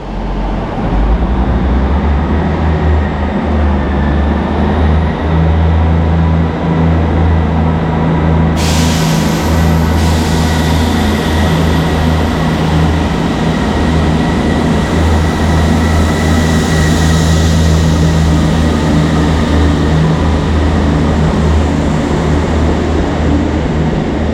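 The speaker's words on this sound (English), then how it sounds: "now we can listen to the departure of my train" A loud, sustained rumble and drone of a train departing a station on the West of England line, low engine hum steady throughout with a hissing rise partway in.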